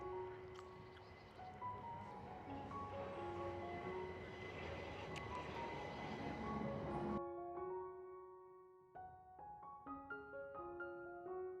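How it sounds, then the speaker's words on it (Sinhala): A train arrives at a station with a broad, continuous rumble under background music. The rumble stops abruptly partway through, leaving the music alone. "ඉතින් guys මගේ ට්‍රේන් එක එනවා"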